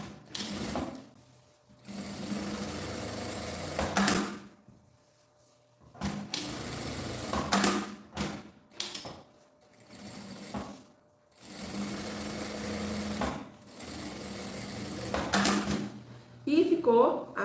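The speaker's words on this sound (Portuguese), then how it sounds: "Aí a gente vai passar uma costurinha aqui, só pra dar uma sentadinha nesse tecido de baixo" Sewing machine stitching fabric for a phone pouch in several rapid bursts of needle chatter separated by pauses, close and clear, with someone speaking quietly between runs.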